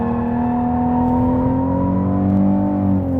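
A Ford Mustang V6 engine revs up after a clutch kick while drifting, a loud, sustained droning roar that rises slightly in pitch and holds steady, with no voices over it.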